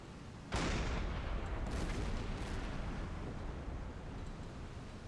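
A submarine deck gun fires a high-explosive shell in Silent Hunter 5: one sharp, heavy boom, then a long rumbling roar that slowly fades over several seconds.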